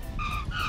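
Tire skid as a toy airplane lands on a runway in a children's stop-motion play show, a brief, loud squealing screech lasting under a second.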